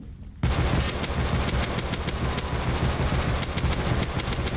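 Rapid, sustained automatic fire from an LR-300 assault rifle in the video game Rust rattles on steadily without pause after a brief quiet start.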